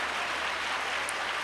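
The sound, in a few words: congregation clapping hands in praise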